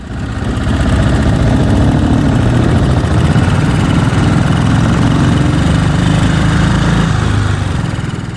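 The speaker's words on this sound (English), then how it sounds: "Martin's nippy little Triumph is a little bit quicker away from the junctions than my 13 brake horsepower of Matchless" A loud, continuous engine drone comes from vintage motorcycles on the road, a small Triumph and a 13-horsepower Matchless. The rumble is heavy, steady and close, as if recorded from the moving bike.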